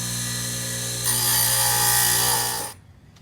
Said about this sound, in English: we're gonna have to grind this down with the grinder real quick